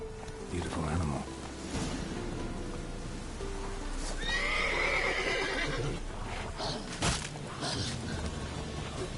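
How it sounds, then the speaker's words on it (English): Horse whinny from the Witcher 3 game, a rising neigh around the middle over a steady game ambience of hooves and outdoor background, fairly loud and close. "Giddy up. That's his horse."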